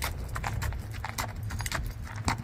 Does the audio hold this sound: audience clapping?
no